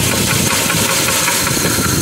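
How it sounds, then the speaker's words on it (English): A 1987 Oldsmobile Cutlass engine runs close by with freshly repaired, quiet exhaust, a dense steady roar carrying an irregular odd knocking noise, with no talking. "Now that the exhaust is quiet, you can hear that noise in the engine."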